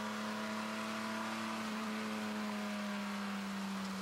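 A 1990 Firehawk race car runs through the rain at Mosport, its engine holding a steady, loud drone with a strong sustained tone throughout, close and continuous with no talk.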